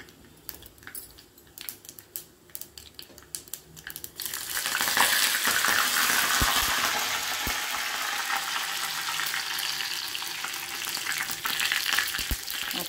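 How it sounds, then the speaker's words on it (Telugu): Hot tempering is poured into tamarind chutney: a few quiet clinks and taps, then a sudden loud burst of sizzling that settles into a steady crackle as the spices fry. "చింతకాయ చట్నీలో కూడా పోపు వేస్తున్నా."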